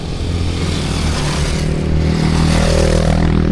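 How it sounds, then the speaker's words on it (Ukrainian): Motorcycles pass by on a forest track, engines rumbling and revving loudly nearby with a rising, sustained growl and some clattering. "Це ж наші мотоциклісти."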